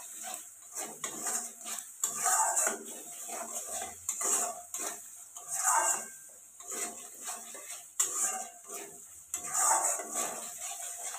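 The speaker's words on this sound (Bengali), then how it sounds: "এখানে দেখো সব কিছু একসাথে ভালোভাবে মিক্সড করে নিচ্ছি।" Spices are stirred together in a pan for begun jhal, with rhythmic scraping and clinking strokes of a spoon against metal and a faint sizzle underneath, close and repeated.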